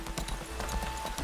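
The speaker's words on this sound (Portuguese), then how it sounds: "Tem um cavalo." Horse hooves clip-clop in a steady trotting rhythm inside the video game Lost Ark, with faint game music humming underneath.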